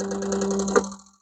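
Fuel injectors from a 1995 Camaro 383 LT1 buzz with a rapid mechanical pulsing on a flow test bench, a steady tone that swells briefly and then winds down to silence, no talk.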